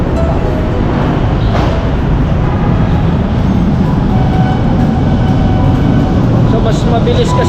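Riding an MRT metro train in the Philippines, with a loud, steady rumble and rattle of the carriage heard from inside throughout, under a constant murmur of passengers talking.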